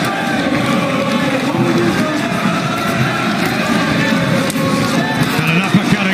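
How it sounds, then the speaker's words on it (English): Boxing arena crowd roaring for home favourite Anthony Joshua during his fight with Kubrat Pulev, a steady dense murmur with a commentator talking over it throughout. "The crowd getting behind the home favourite as Pulev tries another right hand"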